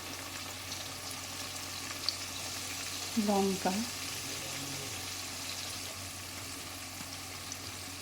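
Turmeric, chili and coriander sizzle in a pan with fried tomato and onion, a steady low frying hiss under a brief stretch of a voice.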